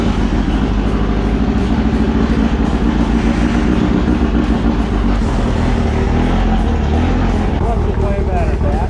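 A sand rail buggy's engine drones loudly and continuously as it drives, a constant close rumble with people talking over it.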